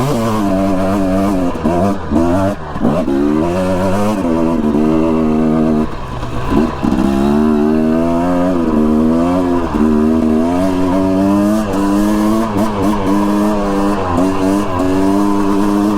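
A dirt bike engine drones continuously on a trail, revving up and down through gear changes as it rides, close and loud throughout with no one talking.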